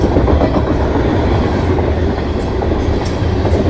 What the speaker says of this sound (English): That's definitely a tanker train.